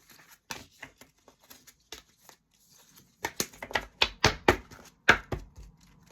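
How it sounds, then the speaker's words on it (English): A deck of tarot cards is shuffled close by in quick bursts of crisp slapping and riffling, sparse and light at first and then louder, denser card snaps toward the end. "I just want to give these a little shuffle"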